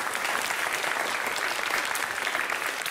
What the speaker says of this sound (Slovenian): Seveda pa en aplavz tudi za osnovno šolo Jakobski dol.